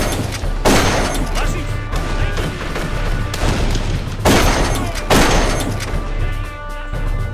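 Shotgun blasts in the video game Darkest of Days: heavy, booming shots spaced several seconds apart, with two close together near the end, each ringing out over a busy background of game noise.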